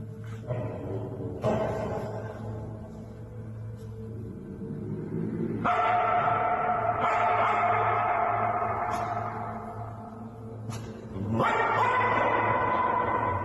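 A dog yips and whimpers in several short bursts spread across the clip, heard through played video playback with a steady hum underneath.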